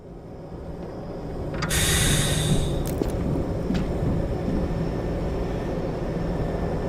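Train pulling into a station in Half-Life 2, a steady low rumble that swells after the first couple of seconds, with a bright hissing burst of air and a few sharp metallic clanks over it.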